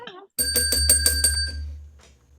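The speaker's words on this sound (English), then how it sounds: "That's our profanity bell." A small bell rings out as a profanity bell during a virtual comedy show, a rapid burst of about six bright metallic strikes that ring on and fade, following a brief bit of speech.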